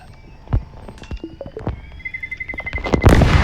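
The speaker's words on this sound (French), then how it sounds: "Ouh là là, il y a des explosions." Repeated sharp bangs and booms with crackling bursts in a roleplay video game, explosions on a police car, building to a louder explosion near the end; electronic tones whistle underneath, like game sound effects.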